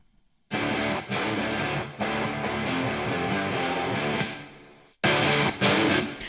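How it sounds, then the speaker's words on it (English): Distorted rock guitar run through a fast 44-millisecond slap delay from a Roland Space Echo tape unit, playing loud sustained chords in bursts with short breaks, close and alone without talk. "This is just a tape delay, or actually it's a slap delay, in a Roland Space Echo"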